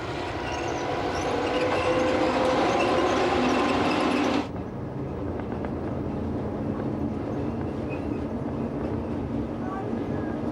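A Rhaetian Railway train on the Engadine line rumbles with a steady rolling roar and wheel noise. The sound is loud and bright at first, then turns duller and muffled about halfway, with speech at moments.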